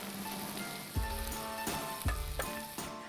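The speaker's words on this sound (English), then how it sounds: "you want to fry the tomato paste in the oil" Tomato paste fries in oil in a pan, giving a steady close sizzle broken by a few sharp knocks and scrapes from stirring.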